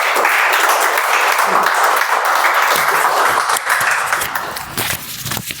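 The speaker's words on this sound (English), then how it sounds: "Please give a big round of applause." Close, loud clapping from an audience at a Toastmasters club meeting, a dense burst of applause that thins out toward the end as a few voices murmur underneath.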